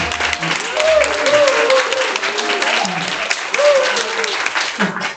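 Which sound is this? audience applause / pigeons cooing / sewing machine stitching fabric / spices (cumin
audience applause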